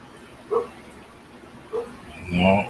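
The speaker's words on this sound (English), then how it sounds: "Y'all hear my wild dog out there." A dog outdoors gives two short, moderately loud barks spaced about a second apart, followed by a longer whining or howling call, all heard from a distance with a faint background hiss.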